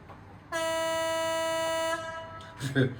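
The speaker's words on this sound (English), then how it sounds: "function number 2 is air horn high" A high, steady air horn from an OO gauge Class 66 model locomotive sound decoder blares loudly for about a second and a half, then cuts off, followed by a brief clunk.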